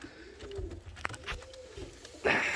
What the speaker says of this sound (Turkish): Bu kumrularımız var.